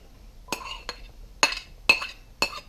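A big spoon scooping broccoli cheddar soup into a blender gives four or five separate metallic clinks and scrapes against the container, spaced irregularly and clear against a quiet kitchen.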